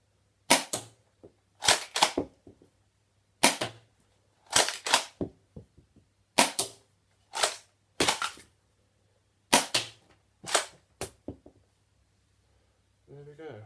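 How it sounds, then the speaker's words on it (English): A UDL Super 90 XM1014 Nerf shotgun fires darts out a window in about a dozen sharp, close snapping pops, some in quick pairs, with short gaps and low hum between them. "I'm going to fire it out the window."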